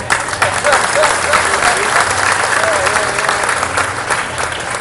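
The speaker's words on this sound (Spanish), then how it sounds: "Un aplauso para todos ustedes." Audience applause and clapping fill the whole stretch at a steady loud level, with crowd murmur mixed in at a festive comedy show celebrating Father's Day.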